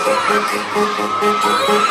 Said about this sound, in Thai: โอ้เสียงกรี๊ดมีแฟนคลับมา